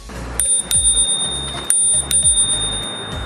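Handlebar bell on a Fiat F500 F85 electric scooter, rung several times in quick bright dings that ring out briefly, close and loud, with no talking.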